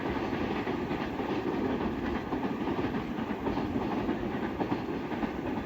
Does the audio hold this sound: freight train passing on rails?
yes